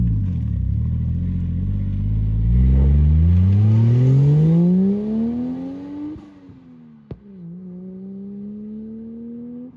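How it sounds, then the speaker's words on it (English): A Toyota Chaser JZX100 engine revs hard while driving, its pitch sweeping steadily upward through the gears before dropping back to a steady drone, with a sharp click partway through; loud and close, no talking. "Let's go for a drive in my Chaser and find out."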